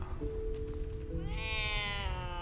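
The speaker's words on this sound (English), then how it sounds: "A cat." A cat in the video game Baldur's Gate 3 gives a single drawn-out, rising meow partway through, clear over a steady low game hum.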